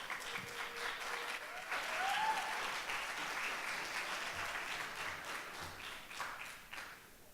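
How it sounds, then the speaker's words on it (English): An audience applauds to welcome a presenter at a talk, a sustained round of clapping that peaks and slowly fades, heard from some distance with faint voices. "please welcome the presenter, Ms. Uwizeyimana Alice, with a big round of applause"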